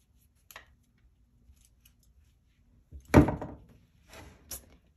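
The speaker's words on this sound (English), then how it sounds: "Cut the twine." Twine for a string art piece is cut with a tool, one sharp, close snip standing out in near silence, with a few faint handling clicks before and after.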